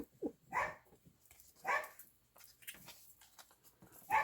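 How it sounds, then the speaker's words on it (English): A dog barks at the top of a staircase in a home, three sharp barks spaced about a second apart with quieter patter and whimpers between, fairly close and with no talk. "she stands at the top of the stairs and barks for my husband to come up and see me"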